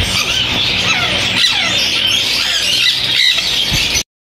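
Conure parrots, including green-cheeked, red-factor and yellow-sided birds, shriek and squawk nonstop at a Sunday bird market in Bahawalpur, with dense, loud, overlapping shrill calls and no talk.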